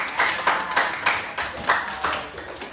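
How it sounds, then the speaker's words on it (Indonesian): A class or small group claps for a winning team in a classroom activity; loud, close, rhythmic clapping with evenly spaced strong beats, almost in unison, with no talk over it. "tepuk tangan untuk kelompok 2"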